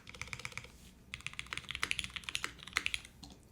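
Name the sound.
typing on gasket-mounted keyboard, aluminum plate, Cherry stabilizers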